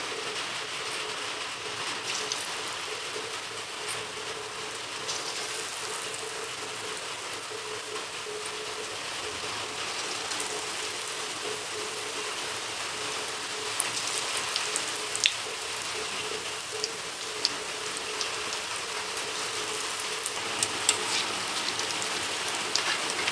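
Banana bonda dough balls frying in hot oil, a steady dense crackling sizzle that runs continuously throughout, with a few sharper pops near the end and no talking.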